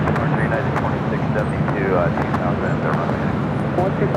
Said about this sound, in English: Let's head back to the south side of the Asiana Cargo Queen, touching down at 25 left.